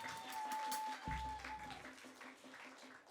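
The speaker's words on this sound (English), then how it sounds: "Give them a round of applause." Applause for young performers at a teen and young adult concert, a faint, fairly sparse clapping throughout with a brief low hum partway through.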